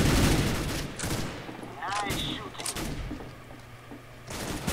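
Gunfire in the video game CS:GO, bursts of rapid shots and a steady game hum, with a few brief clicks and chirps from the game.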